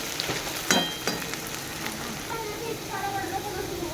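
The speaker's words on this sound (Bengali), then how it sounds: "আলুটা হালকা হালকা ভাজা হয়ে গেছে দেখছেন।" Potato pieces frying in a pan for a prawn dish give a steady soft sizzle with a few sharper crackles and stirring scrapes early on, close by, while a voice talks over it.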